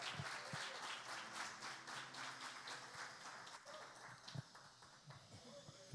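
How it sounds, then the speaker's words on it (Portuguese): A church congregation gives quiet, steady applause for guests called to the front, a faint, even patter of clapping at a distance with some murmured voices beneath. "Uma salva de palmas para eles"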